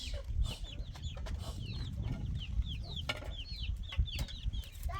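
Chickens cluck and chirp steadily at a rural farmyard, many short calls from several birds close and farther off over a low rumbling background, with no talk.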